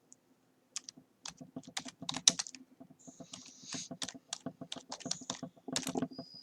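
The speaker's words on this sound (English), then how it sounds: "So you can see when I start typing" Fingers tap quickly on a computer keyboard in irregular bursts of close, crisp keystrokes, with brief pauses between runs.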